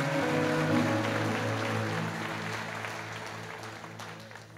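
Church congregation clapping for the Lord during a Portuguese-language sermon, a steady wash of applause that gradually fades over several seconds, with sustained organ or keyboard tones beneath.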